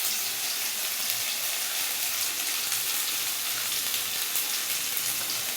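Onion frying in hot oil in a pan gives a steady, close, continuous sizzle with a dense hiss that holds evenly throughout, with no talking.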